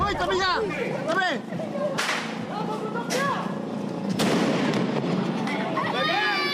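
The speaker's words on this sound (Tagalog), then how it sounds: "Kaliwat kanang paputok ang sinindihan nila sa kalsada para salubungin ang Pasko." Firecrackers are set off in a street in Tondo, Manila, for Christmas: several sharp cracks and bangs ring out at irregular intervals amid shouting voices and whooping crowd noise.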